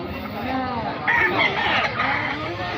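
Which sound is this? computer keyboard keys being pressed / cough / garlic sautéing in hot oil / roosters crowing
roosters crowing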